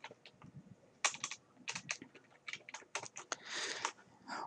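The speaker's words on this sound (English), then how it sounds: "I'm going to type in August." Quiet, rapid keystrokes on a computer keyboard, an irregular run of close clicks and taps with no voice.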